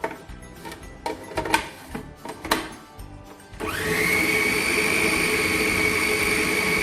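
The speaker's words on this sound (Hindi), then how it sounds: "नमक, चॉप लहसुन, ये सब इसमें डाल के पीस लेंगे। इसको बिल्कुल फाइन पेस्ट बनाऊंगी मैं।" Electric grinder blitzing chicken mince with cumin, salt and chopped garlic into a fine paste: a few muffled knocks and clatters, then a loud steady high whirring motor drone that runs on unbroken to the end.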